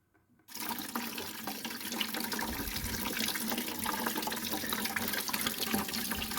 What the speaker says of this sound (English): So we're doing the coolant too. We're just making a waterfall here.